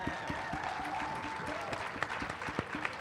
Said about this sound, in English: Give another round of applause for Ms. Dixon.